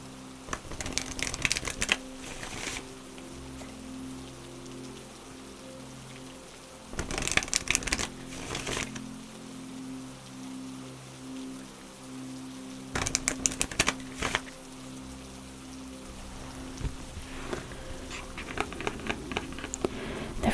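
Oracle cards being shuffled in several bursts of quick, crisp riffling and pattering flicks, close and fairly soft, separated by quiet stretches.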